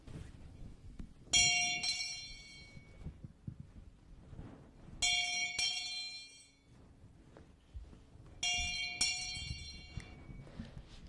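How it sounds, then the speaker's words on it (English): A small bell rings in three separate bright jingling bursts a few seconds apart during a Sunday church service, each one clear and ringing out over a quiet room. "let us bow down our heads after the jingling of the bell 3 times"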